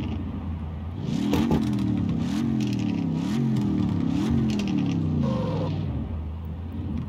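A car with side exit exhaust revs close by, its engine note rising and falling over a steady rumble before settling back toward idle, with no talking.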